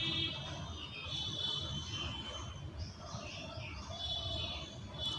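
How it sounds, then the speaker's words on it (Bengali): Small birds chirp and twitter through an early-morning outdoor scene, a steady chorus of high calls mixed with insect-like trilling over low background rumble, with no talking. "এই সকাল সকাল ব্লগ করতে গেলেই এত সুন্দর পাখির কিচিরমিচির আমি শুনতে"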